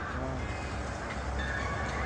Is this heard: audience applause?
no